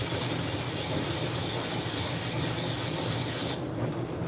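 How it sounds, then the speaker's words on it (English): Canola oil cooking spray hisses continuously onto a frying pan for several seconds, a loud broad spray that cuts off near the end, leaving a softer background. "Canola spray. Just spray the shit out of the pan and throw it in."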